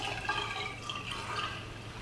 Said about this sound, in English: Just gonna add some fresh water.